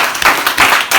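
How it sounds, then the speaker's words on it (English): A group applauds a male student at a school confidence-building session, with a brief, loud burst of close clapping in a few uneven surges. "Please give this man a round of applause."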